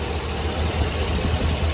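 A GMC 3500HD Sierra truck engine idles close by, a steady low rumbling drone with a faint knocking pulse, continuous and unbroken with no talk.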